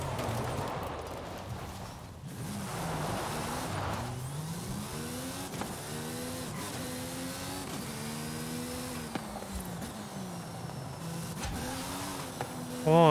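A Mercedes-AMG Project One in Forza Horizon 5 drifts with its engine droning and pitch rising and falling through slides, a steady loud whine running throughout with no talking.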